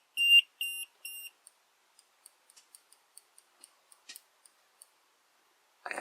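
A Power Wall Mini battery's low-level alarm gives three sharp close beeps, followed by a string of faint, irregular ticks and clicks in near silence.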